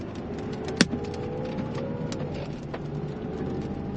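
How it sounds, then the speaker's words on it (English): Small hailstones tick and rap against a car during a storm while the car drives, making sparse, sharp taps over a steady road and cabin rumble, with one louder crack near the start. "Yep, there's the hail."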